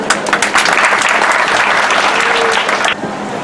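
A crowd claps steadily at a guest felicitation ceremony at the Sant Rohidas Ashram in Sarsai, Junagadh: dense, loud applause that holds evenly, then thins abruptly near the end into a quieter tail.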